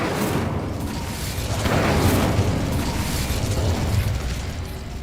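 Incendio fire spell blast in the Hogwarts Legacy video game, a dense roaring burst that swells to a peak midway and holds loud and close to the end, with no voices over it.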